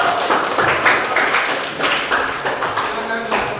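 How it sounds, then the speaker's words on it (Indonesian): A classroom of students clapping on a teacher's cue, a brisk, fairly loud patter of hands continuing steadily throughout with slight rhythmic swells. "Tepuk tangan"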